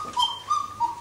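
The small paired whistles of a Black Forest cuckoo clock sound a few short, clear tonal calls in quick succession, close and fairly loud, with no talking over them.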